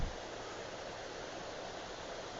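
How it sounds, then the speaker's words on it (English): Low water running over and through rocks at Sabaday Falls along a mountain pass, a faint, steady hiss of flowing water with no voices. "the sound of the water going through the rocks"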